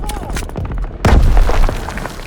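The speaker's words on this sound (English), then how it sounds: "Tossing out a grenade!" A grenade blast bursts out loud and close amid gunfire in the World War II shooter Call of Duty WW2, preceded by sharp shots and shouted voices, with a deep booming tail after the explosion.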